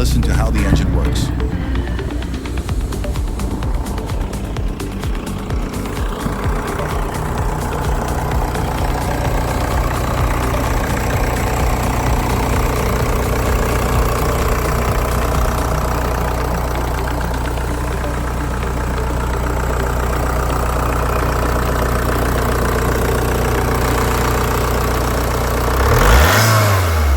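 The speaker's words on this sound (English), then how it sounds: "listen to how the engine works" Under the hood of a 1999 VW Caddy, its 1.9 SDI naturally aspirated diesel idles close and steady with a rough mechanical clatter, then blips once in a short rev near the end, with a voice talking over it.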